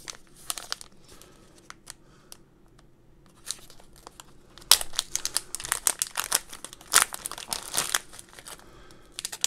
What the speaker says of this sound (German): Werden wir mal auspacken.